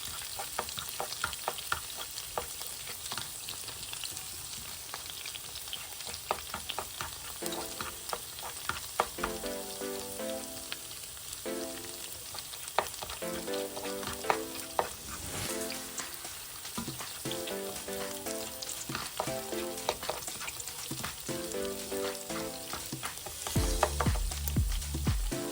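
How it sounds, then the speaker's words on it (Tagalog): Garlic frying in a pan for honey garlic chicken, a steady soft sizzle and crackle running throughout, with quiet background music playing along. "Lutuin ko lang yung garlic."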